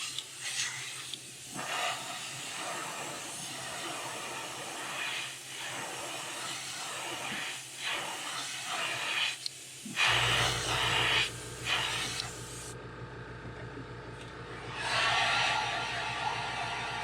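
Airbrush spraying paint onto a plastic fishing lure, matching an old Shad Rap color with red oxide, a steady close hiss in short passes, then a louder rougher spray with a low hum from about ten seconds on.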